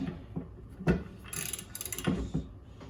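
A hand ratchet tightens the SP Tools wishbone lever: several sharp mechanical clicks and brief metallic rasps come in irregular bursts, close and fairly quiet, with no talking.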